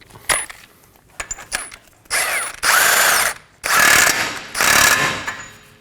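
A ratchet with a 32mm socket snugs down the axle nut on a 2015–2023 Nissan Maxima front hub: a few sharp metallic clicks, then several loud, sustained bursts of fast ratcheting, up close.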